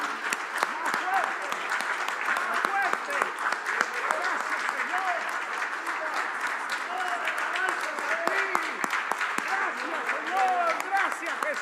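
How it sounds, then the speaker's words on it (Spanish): Congregation clapping steadily in a church service, dense continuous applause filling the room with a worshipper's voice carrying over it. "Demos un aplauso más fuerte."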